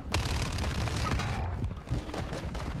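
Rocket launcher fire in a multiplayer shooter video game, a dense burst of booming blasts and gunfire crackle stacked close together, loud and continuous across the moment.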